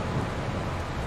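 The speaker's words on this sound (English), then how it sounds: "I hate the rain." Steady, dense rain with a low rumble of thunder fills a farming video game scene, a continuous wash of noise with no talking.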